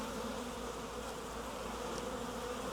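A swarm of honey bees buzzes in a dense, continuous drone, close and steady with no pauses or voices.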